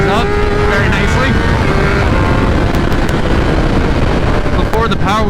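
2021 Kawasaki ZX-10 sportbike pulling a wheelie, engine roaring loud and steady with rising and falling revs amid heavy wind rush, close to the rider.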